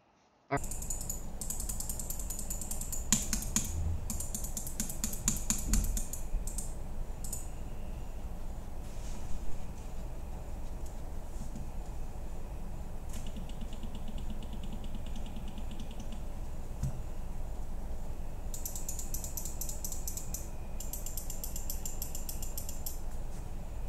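Rapid mechanical clicks and ratcheting scroll-wheel ticks in bursts from an HK Gaming Mira M mouse, close up, over a steady background hiss; no talking.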